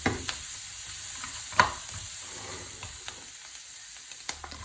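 Cashew nuts hit a hot pan for a no-onion, no-garlic chickpea curry, giving a soft, steady sizzle with a few light clicks and stirring taps, quiet and close, with no talking.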